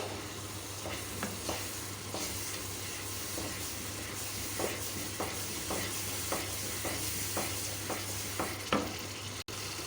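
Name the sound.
frying pakora mixture in a kadhai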